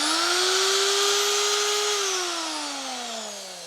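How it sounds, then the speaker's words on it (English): A small handheld power sander cleaning up a wooden workpiece gives a loud, steady high whine close by, then winds down in pitch as it slows toward the end. "I'll get Nay's little sanding weapon and just give that a clean up"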